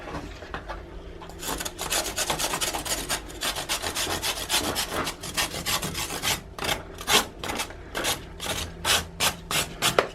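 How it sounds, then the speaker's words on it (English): Chalk rubbed back and forth over the outside of a garden pot, a steady close rasping scrape that becomes rhythmic, separate strokes toward the end. "Then all I do is I rub the covering of the chalk"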